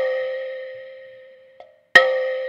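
A woody melodic one-shot sample from the Cymatics Sorcery pack rings out as a sustained tone that slowly fades. It is followed by a faint short blip and then one louder, sharper re-trigger, heard close and alone.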